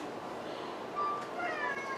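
A cat gives a few soft, short meows over a low background hum, fairly close and moderately quiet.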